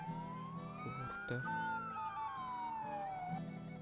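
A police car siren wails in a long rising and falling sweep on a rural farm road, fairly faint beneath steady background noise. A single word is spoken.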